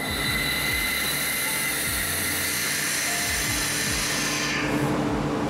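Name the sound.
air compressor running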